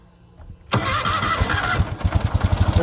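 A 2014 Ural Patrol 2WD sidecar motorcycle engine with shorter exhausts cranks and catches after a quiet moment, roaring up loudly before settling into a rhythmic, lumpy idle with distinct exhaust pulses.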